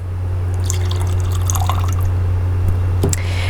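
Fresh lime juice from a whole lime drips and trickles into a mojito over a constant low electrical hum, with scattered splashes and a sharper drop near the end.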